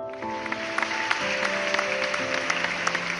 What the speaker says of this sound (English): Folks, let's give a round of applause to the donor of the world's famous HeLa cells.